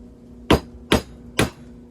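Three evenly spaced sharp metallic hammer strikes on an old flathead screwdriver used as a punch, in a workshop while working on a 1978 Chevy Camaro drag car, close and loud over a faint steady hum.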